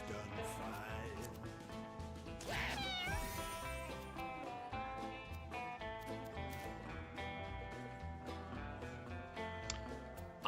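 Cartoonish cat meows from the video game Mewgenics ring out over busy, layered game music, a few bright calls rising above the steady backing throughout.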